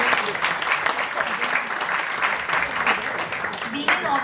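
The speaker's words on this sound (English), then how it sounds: "Can we have a huge round of applause for them?" An audience at an open mic writers festival applauds young authors, steady continuous clapping filling the room with a few voices underneath.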